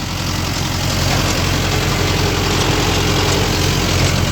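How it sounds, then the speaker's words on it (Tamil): A Mahindra Yuvo 575 Tech Plus tractor drives a 42-blade rotavator in low gear, a steady heavy diesel drone with a constant low throb and broad mechanical churning, loud and unbroken. "ரொட்டேட்டர் தான் ஓட்டிகிட்டு இருக்கோம்"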